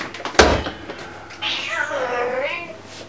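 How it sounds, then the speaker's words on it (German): A house cat meows in a home kitchen during baking, a drawn-out wavering call after a brief knock, heard fairly close with soft room noise. "Ja, meine Katze ist hier wieder unterwegs."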